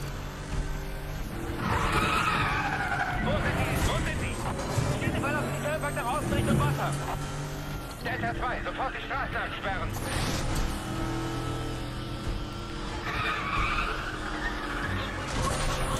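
Tires squeal and skid as a car slides through corners in the racing video game Need for Speed: The Run, loud and sustained over engine roar, with someone commenting in German throughout.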